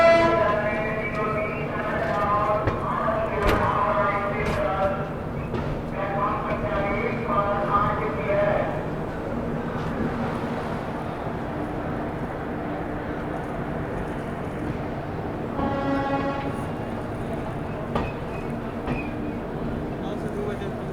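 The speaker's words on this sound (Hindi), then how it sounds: "फाइनली अपनी ट्रेन जो है पहुँच रही है पंडित दीनदयाल उपाध्याय" The West Bengal Sampark Kranti Express rolls into Pandit Deen Dayal Upadhyaya station, with rumbling wheels, clattering, and horn-like tonal blasts near the start and again later over a noisy platform.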